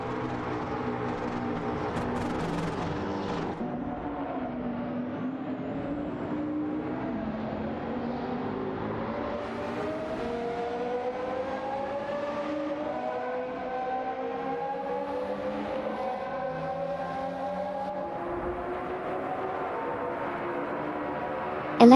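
Race cars in an AI racing video game roar past in a continuous loud engine drone, rising and falling pitch sweeps from several cars overlapping throughout with no pauses.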